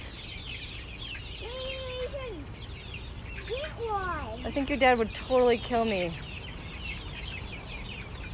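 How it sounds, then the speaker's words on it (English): California White chicks at a feed store, with chicken vocalizations of rising chirps and clucking calls clustered in the middle, set against a steady hum of store background and someone speaking. "But those are California white chicks."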